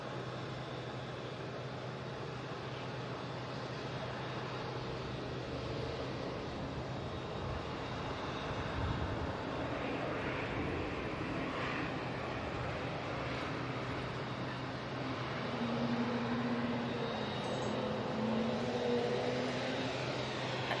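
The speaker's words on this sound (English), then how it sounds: "A320 is going, we're ignoring it" An Airbus A320 departing Manchester Airport gives a continuous distant engine roar that swells gradually, with wind-like broadband noise and no talk.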